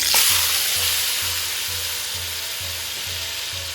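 Three large tomatoes frying in a pan with turmeric for a tomato paneer pickle, giving a loud, steady sizzle throughout with faint rhythmic scraping underneath, and no voices.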